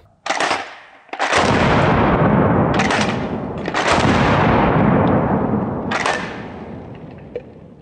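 Rapid slam-fire shots from a pump-action trench shotgun fired with the trigger held down, several loud, close blasts in quick succession with booming reverberation between them and a slight pause before the last.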